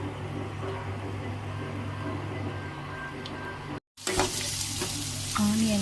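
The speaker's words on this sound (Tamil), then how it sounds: "கடுகு போடணும்." Mustard seeds sizzle and crackle steadily in hot oil in a pan for sambar, a close, continuous frying hiss with a brief break and then renewed popping.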